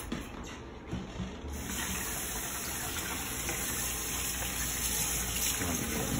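Gloves rinsed under a running kitchen tap, a steady hiss and splash of flowing water that starts after a moment of handling noise and carries on fairly quietly.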